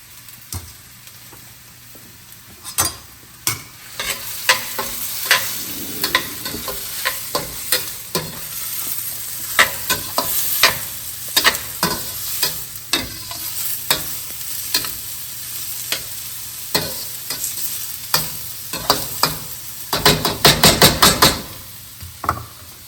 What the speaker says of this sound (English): My olive oil is hot. I'm going to put all the onions here